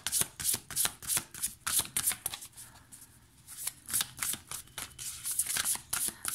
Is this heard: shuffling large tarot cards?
yes